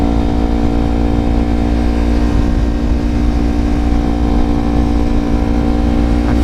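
A small motorcycle runs at speed through traffic. Its engine drones loud and steady, close by, with no voices over it.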